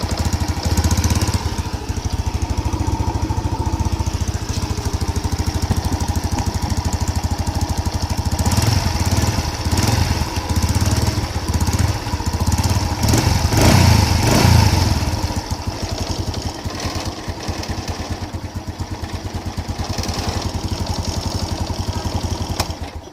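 A motorcycle engine runs after a faulty rectifier that caused no spark has been repaired, catching and then idling steadily and loudly up close with a rough, rapid putter for over twenty seconds, with no talk over it.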